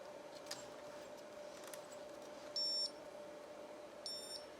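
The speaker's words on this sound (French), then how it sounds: "on fait dérouler jusqu'à ce qu'on entende un bip" Two short electronic beeps from a selfie photo booth printer during a paper change, one near the middle and a briefer one near the end, over a steady low hum.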